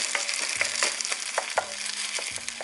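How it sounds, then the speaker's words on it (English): Thai-style nasi goreng fried rice with tomatoes sizzles steadily in a hot pan, with regular scraping stirs of the spatula cutting through the continuous close frying hiss, no voices. "I'm actually cooking this for more than 3 minutes because I need the tomatoes to dry."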